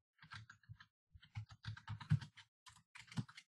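Keys clatter on a computer keyboard in short, irregular bursts of close taps with brief pauses between them, heard alone.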